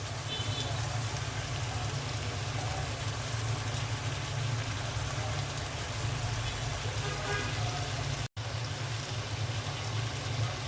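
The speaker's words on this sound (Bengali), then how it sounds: "এখন আমি মাছগুলো দিয়ে দিচ্ছি।" Pabda fish go into a hot pan with fried potato and eggplant, giving a steady, dense sizzle that continues throughout, broken by one brief cut near the end.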